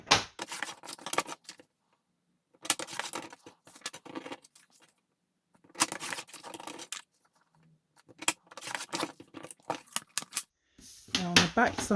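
Paper trimmer slicing sheets of cardstock for card making, heard as several bursts of scraping and sliding cuts separated by pauses, close and fairly loud.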